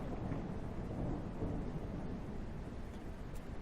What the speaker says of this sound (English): Is this a dry lightning fire, or is that just really long thunder?